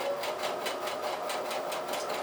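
A sewing machine fitted with a pintuck foot stitches pintucks in fabric, a steady rapid mechanical whir with an even pulsing beat, close and moderately quiet, with no talking.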